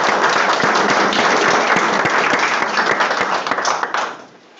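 A room applauds committee members at a school district board meeting, loud close clapping with some distinct individual claps that carries on steadily before fading out near the end.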